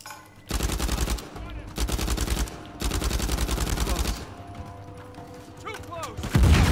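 Gunfire in a video game comes in long rapid bursts of close, loud shots with brief gaps between them, followed by quieter mechanical clatter and a heavy hit at the end.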